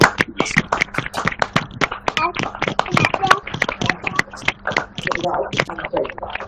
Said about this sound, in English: let's give the speaker a round of applause at the count of 1, 2, 3